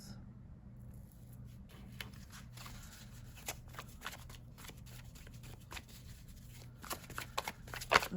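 Tarot cards shuffled by hand, a run of soft riffling and flicking taps that grows busier and sharper toward the end, close and quiet with no talking.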